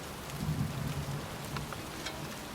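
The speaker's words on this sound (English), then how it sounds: "It's cold. It's raining." Heavy rain falls steadily in a video game cemetery at night, a dense, even hiss close around the listener with a low rumble beneath, no voices.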